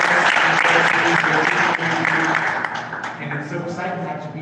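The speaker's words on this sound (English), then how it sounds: "So one big round of applause for all of our educators here today." A board of education meeting audience applauds its educators, a dense round of clapping mixed with a voice talking over it that gradually eases in level.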